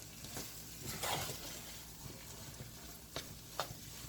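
Minced garlic is stirred in a hot pan, giving a soft, steady sizzle and frying hiss with a few light scrapes and taps of the utensil, quiet and close.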